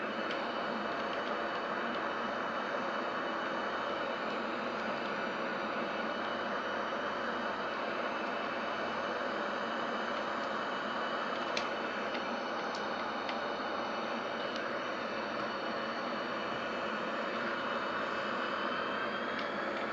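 Steady, continuous airliner engine drone inside the X-Plane 11 flight simulator, a broad even roar holding unchanged throughout with a few faint clicks partway through, no voices.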